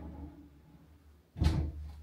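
A closet door in an empty house slides or swings with one short thud and rattle after a quiet pause, close and alone.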